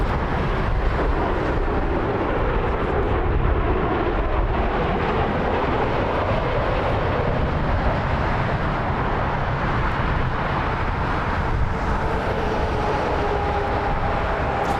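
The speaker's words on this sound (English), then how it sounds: "This is Delta Flight 8810, which is coming in from Fort Lauderdale" A Delta Boeing 757 airliner arriving in Las Vegas from Fort Lauderdale produces a continuous broad rumbling roar, fairly loud and steady throughout, with no talk over it.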